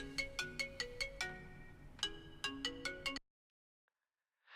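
A phone ringtone plays loud and close in a repeating run of bright, evenly spaced electronic tones, then cuts off abruptly into silence partway through.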